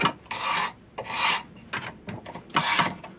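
A hand scraper shaves wood from a Sussex chair stretcher in short rasping strokes, four or five close, distinct scrapes with brief pauses between them.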